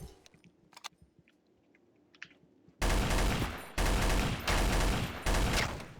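Loud bursts of automatic gunfire in Counter-Strike Source, sustained volleys after a quiet stretch of faint clicks and footsteps, close and dense with brief pauses between strings of shots.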